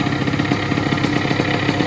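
A 78cc ATOM 80 two-stroke light aircraft engine fitted with a titanium silencer runs steadily at close range, a loud, even buzzing drone with a fast rhythmic pulse and no pauses.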